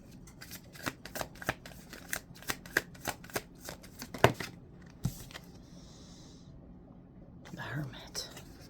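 Tarot cards shuffled in a steady run of soft riffling snaps close by, about a dozen quick flutters, then a brief pause, a faint rustle and a low murmuring voice near the end.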